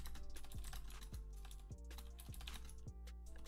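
Computer keyboard typing during kernel driver coding in C++ on Windows, a steady run of light key clicks over a constant low hum, close and fairly even.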